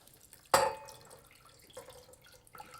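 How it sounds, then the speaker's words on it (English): Marinade ingredients poured into a simmering sauce in a kitchen: one sharp splash, then a few soft, faint liquid trickles and drips, close and with no talking. "Pour my marinade ingredients"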